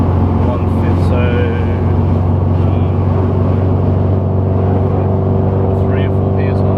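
A turbocharged car engine hums steadily under light boost while driving, with a constant low drone and a faint turbo whine beneath people talking inside the cabin.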